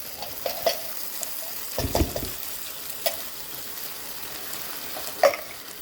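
Vegetables and corn sizzling in a pan as they are stirred, a soft frying hiss with a few scraping stirs and light clicks of the utensil against the pan, with no one talking.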